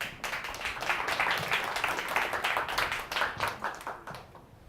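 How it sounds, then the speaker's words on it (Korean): A crowd at a crypto-focused lounge meetup claps warmly as a presenter is welcomed to the stage; the dense, even applause holds steady, then thins and fades out at the end. "나오시면 큰 박수 부탁드리겠습니다."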